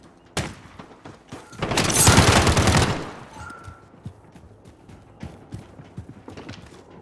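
A submachine gun fires in a video game, a dense burst of rapid shots peaking around the middle, with scattered single reports and clicks before and after.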